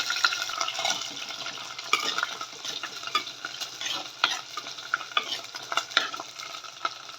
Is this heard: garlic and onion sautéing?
yes